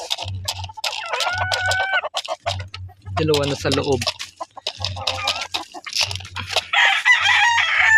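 Chickens cluck and squawk close by in a run of short bursts while someone talks over them, along with low thumping and a few scattered higher calls.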